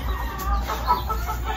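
Chickens being fed cluck softly and continuously nearby over a low rumbling background.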